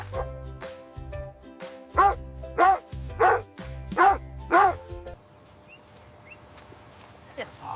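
A dog lets out about six loud, close barks in a quick regular rhythm, and then the barking stops, leaving quieter background noise.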